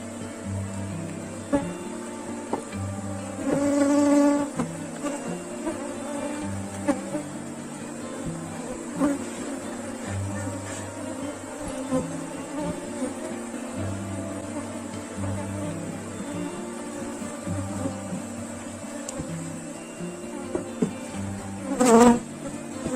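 Africanized honey bees hum densely around an open hive during a colony split, a steady close buzz that swells louder as individual bees pass near, most noticeably twice.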